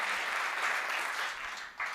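An audience at a Hindi comedy poetry recital applauds, a dense, continuous roar of clapping that dips briefly near the end and swells back up.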